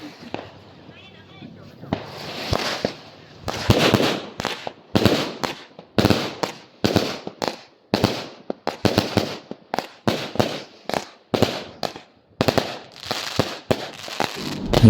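Fireworks and firecrackers go off at a beach in a dense series of sharp pops and crackling bursts, loud and near, with people talking and calling out throughout.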